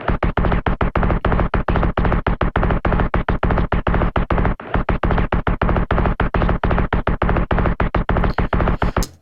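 A dense industrial beat made in Ableton Live from a single processed cymbal sample, hammering steady loud hits in a fast regular pulse with a brief dropout near the middle, no voices.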